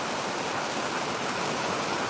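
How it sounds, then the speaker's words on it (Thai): Rain falls steadily in Pluak Daeng, Rayong, Thailand, an even dense wash of droplet noise throughout with no pauses or voices. "บรรยากาศครับฝนตกนะครับที่ประเทศไทยนะครับอำเภอปลวกแดงจังหวัดระยอง"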